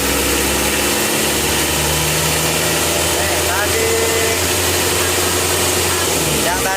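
Isuzu Panther 2.3 diesel engine being revved during a tune-up, a loud, close, steady rattling clatter with harsh low rumble throughout, with a voice talking over it.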